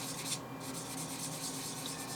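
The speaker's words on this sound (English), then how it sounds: "just letting the sanding pad do its work" A sanding pad rubs steadily against a small model kit part, producing a continuous, fairly quiet scratchy hiss with a faint rhythmic back-and-forth texture throughout.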